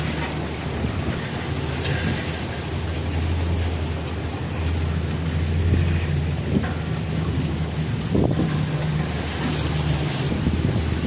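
Steady wind buffets the microphone over the open water of the Kaniv Reservoir, a continuous rushing roar with slight gusts and faint lapping underneath.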